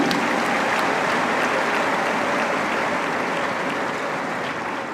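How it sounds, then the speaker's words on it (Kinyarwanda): A large crowd applauds at a memorial farewell ceremony for a pastor, the clapping dense and sustained throughout, easing off slightly toward the end. "Dukomere amashyi menshi Imana mu mwanya nk'uyu"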